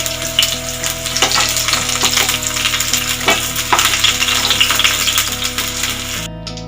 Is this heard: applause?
no